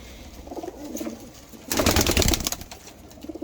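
Pigeons, including a pure blue Dumba, coo in low murmurs, then a loud burst of flapping wings sounds close by, followed by quieter cooing.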